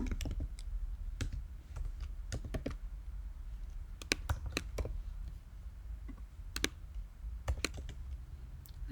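Irregular bursts of light keyboard typing with scattered key clicks and short pauses, close by in a quiet room.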